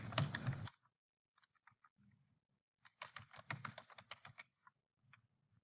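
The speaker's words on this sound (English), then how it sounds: "typing very carefully" Computer keyboard typing, quiet and close: a burst of noise, then careful, irregular keystrokes that speed up into a run of clicks and fade to scattered taps.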